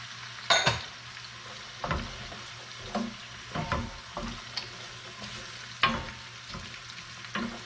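Carrot slices and small sticks frying in a pan for cassoulet, a steady close sizzle broken by repeated stirring scrapes and clinks at irregular intervals, with no voices.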